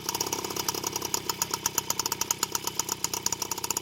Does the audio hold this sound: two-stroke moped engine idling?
yes